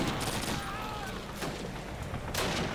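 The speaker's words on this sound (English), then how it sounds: "Is somebody shooting at us from over here?" Gunfire crackles in Call of Duty: United Offensive, a World War II shooter, as a few muffled, fairly distant shots over a constant rumble of battle noise, with a voice heard faintly.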